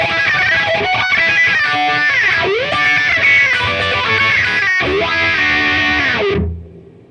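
Distorted electric guitar with a wah pedal sweeping open and closed across sustained and moving notes in the wah section of a song, loud and continuous before fading out at the end.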